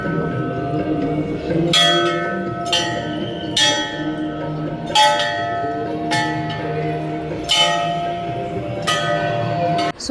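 A temple bell is struck repeatedly at a Shiva shrine during a morning visit in Vrindavan, its ringing strikes coming about once a second over a steady hum of crowd murmur and other bells.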